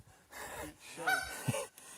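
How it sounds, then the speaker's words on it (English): A goose on a river gives a few close, sharp nasal honks amid quiet breathy background, the loudest call near the middle of the short span. "we're listening to that damn goose"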